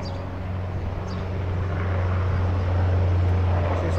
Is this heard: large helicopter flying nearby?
yes